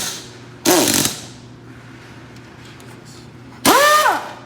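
An air impact wrench works on a 1955 Buick Century in two loud, close bursts of rapid hammering, each about half a second long, with quiet shop ambience between them.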